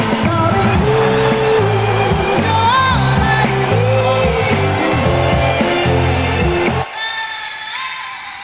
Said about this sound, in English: cue the crowd noise